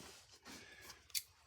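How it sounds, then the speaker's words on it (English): Scissors cut a thin sheet of coated hinge material for a model aircraft wing build, with a few faint snipping sounds ending in one sharper, crisp snip. "Take a pair of scissors and you can cut them."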